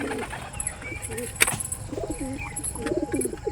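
Two male Najra Kaldam pigeons coo close by in a loft, soft repeated throaty rolling calls at a steady rhythm under faint background chirps, with a brief noise burst partway through.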